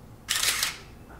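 A Minolta Maxxum 7000 film SLR fires its shutter once, a brief close mechanical snap and whir of mirror and shutter in a quiet room, followed by a faint short winding sound.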